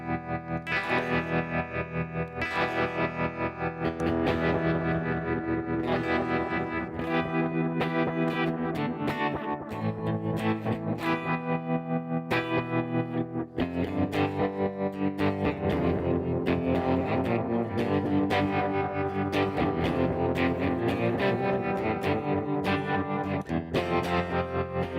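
Electric guitar played through tremolo and delay effects, with chords pulsing in a regular rhythmic throb and repeats trailing behind each note, continuous and fairly close with no talking.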